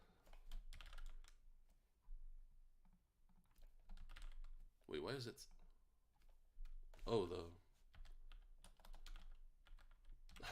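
Quiet clicking of keys on a computer keyboard in irregular bursts, with a person briefly speaking over it.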